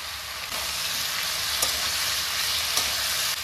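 Food sizzles steadily in a pan with grated ginger, a constant broadband hiss with a couple of brief clicks from stirring, close and alone without any talk.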